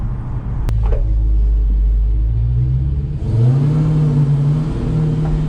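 A 797 hp 2021 Dodge Charger SRT Hellcat Redeye Widebody rumbles and revs inside a tunnel, a loud, close, steady low engine drone that climbs in pitch partway through as it accelerates, echoing off the walls.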